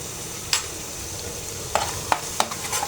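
Ground spices (chili powder, turmeric, cumin powder) with salt sizzle in a hot pan as they are stir-fried, with a steady frying hiss broken by several sharp scraping stirs near the end.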